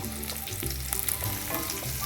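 Hot oil crackles and sizzles in a wok with black mustard seeds, cumin, onion, curry leaves, garlic and green chilli being stirred, with a few sharp spits and clinks nearby.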